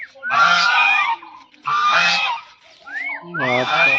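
Geese honk loudly and close by while drinking water, in three bursts of harsh, overlapping calls separated by brief pauses, the last burst rising into clearer nasal honks.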